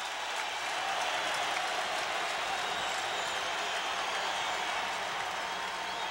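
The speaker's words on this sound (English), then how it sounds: "The crowd on its feet." A basketball arena crowd, on its feet late in a Bulls–Sixers Eastern Conference semifinal game, lets out a sustained, dense roar of cheering and applause that holds steady at full volume without a break.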